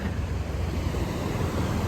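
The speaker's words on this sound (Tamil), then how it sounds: "கடல் எப்படி இருக்கு பாருங்க" Sea waves and wind at a beach where people have come to fish: a steady, close roar of surf mixed with wind buffeting the microphone. No voices are heard.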